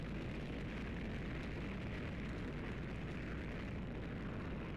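A rocket launches in Black Mesa with a steady, deep rumbling roar, like a broad wall of rushing thrust. It is moderately loud, holds constant throughout and sounds distant, with no talking.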